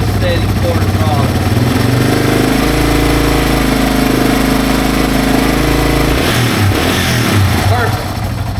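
Yamaha TW200 motorcycle engine held at a steady quarter throttle during carburetor troubleshooting, a loud, continuous low chugging drone with an even pulse, shifting slightly near the end.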